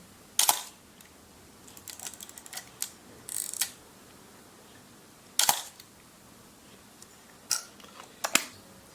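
A Mamiya 500TL camera's mechanical focal-plane shutter fires several times with crisp clicks and short whirs, spaced irregularly, close up in a quiet room.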